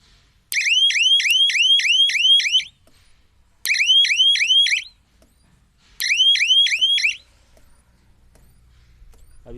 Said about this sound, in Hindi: अभी सायरन का बटन बंद है, अब चालू करते हैं।